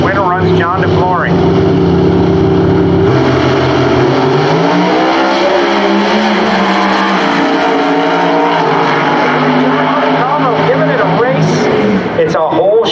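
NHRA Mountain Motor Pro Stock drag cars racing down the track at the Carolina Nationals, a loud sustained engine roar with shifting pitch and sweeps as they pass, under crowd and track noise.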